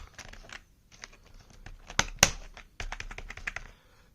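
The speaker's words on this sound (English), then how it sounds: "the membrane thingy, which works when I press it." Keys on a membrane computer keyboard are pressed in quick, uneven bursts of soft clicks and taps, close and fairly quiet, with a couple of sharper knocks partway through.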